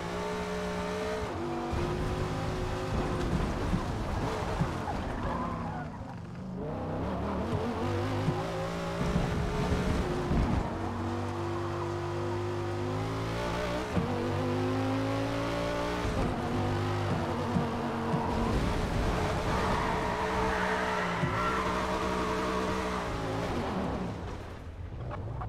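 A race car in Forza Motorsport drives hard, its engine revving up and down through gear changes with wavering pitch, loud and continuous for the whole stretch, with no talk over it.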